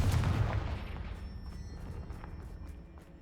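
In the video game Hogwarts Legacy, the Confringo fire spell detonates with a heavy booming blast at the start, its roar decaying over a few seconds amid faint crackling debris.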